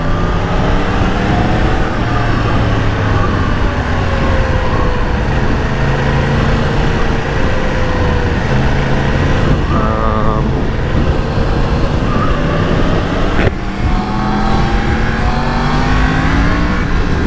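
A 2019 Yamaha MT-10 motorcycle accelerates hard, its engine roaring loud and close with steady rising revs, a brief gear change partway through, then pulling strongly again.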